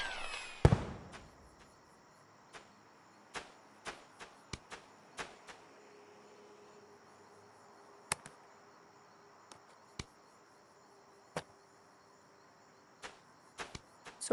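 Firework item used in a video game, giving one sharp launch whoosh followed by a scattered series of short, crisp popping bursts over a quiet, faintly humming background.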